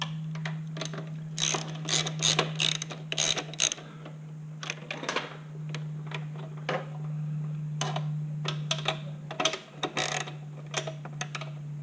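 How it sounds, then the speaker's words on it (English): A hand ratchet tightening bolts while a Suzuki RGV250 motorcycle is reassembled: rapid bursts of clicking pawl strokes, close and clear, starting and stopping repeatedly over a steady low hum, with no speech. "There's my other ratchet."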